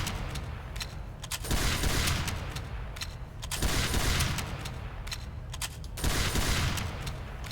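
The Force of Nature shotgun in Team Fortress 2 fires repeated loud blasts in a dense, rough stream. The noise swells in roughly two-second waves with sharp transients scattered throughout, like continuous combat gunfire.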